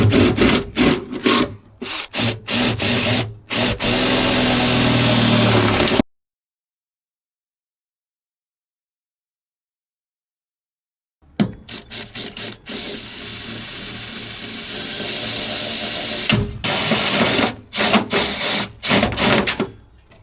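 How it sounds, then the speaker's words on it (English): A drill bores holes into an aluminum boat to fit rod holder and downrigger mounts, giving loud, harsh grinding bursts. A silent gap falls midway, then the drilling resumes in several pulses. "always nervous about drilling holes in a boat"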